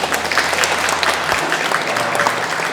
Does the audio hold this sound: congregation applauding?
yes